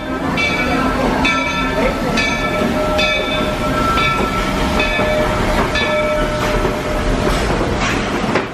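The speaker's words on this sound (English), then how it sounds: "And then there's an actual railroad. So all types of trains here." A train on the Walt Disney World Railroad at Magic Kingdom rumbles steadily with rhythmic clacking on the rails, with a faint voice in the background.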